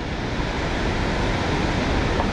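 A waterfall near a large driftwood log jam, heard as steady, dense rushing water that stays even and loud throughout without any talk.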